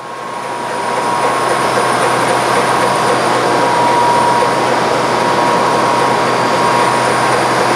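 A Model 2152 double-blade bandsaw runs with a loud, steady mechanical roar and a constant hum that builds up in the first second, then holds evenly with no talk.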